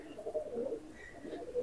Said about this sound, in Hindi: ये मेरे हाथ में जो कबूतर है ये नर है जी